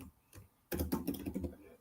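Typing on a computer keyboard while writing Python code, with a few faint keystrokes followed by a close, busy burst of rapid clicking taps.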